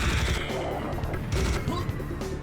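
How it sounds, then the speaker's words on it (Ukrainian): Dense, continuous rapid gunfire roars for the whole stretch, a loud mechanical rattle of a spinning minigun in the video game Serious Sam. "в мене повний мініган. Ну треба з нього стріляти тоді починати"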